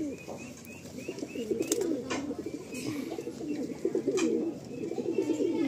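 Kalanka racing pigeons cooing close by, a continuous run of throaty rolling coos that overlap and grow busier toward the end, with a few faint soft clicks and rustles.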